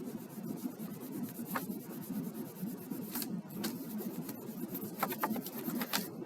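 Steady scrubbing of a pencil eraser on paper, a continuous rough rubbing with a few sharper scratchy strokes, close and fairly quiet, no voices.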